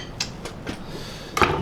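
A punch tapped with a hammer to seat a seal during a Classic Mini rear suspension rebuild: several light metallic taps spaced apart, then a sharper ringing strike, close and clear in a quiet workshop.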